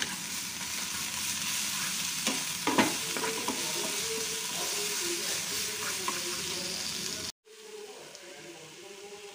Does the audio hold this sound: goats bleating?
no